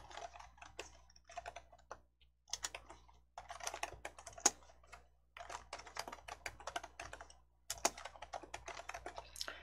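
Fingers type on a computer keyboard in quick bursts of clicky keystrokes, close and crisp, separated by short pauses, with no talking.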